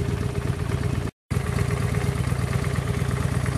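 2009 Honda Shadow Spirit VT750 motorcycle engine idling up close, a steady, even low rumble with a brief dropout partway through.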